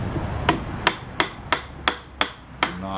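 A hammer knocks a board into place during a budget kitchen remodel, eight sharp evenly spaced blows, close and loud, with no talking.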